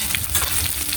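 Garlic and onion hit a hot pan and fry with a loud, close sizzle and crackle, accompanied by a bit of stirring, lasting the whole short moment without speech.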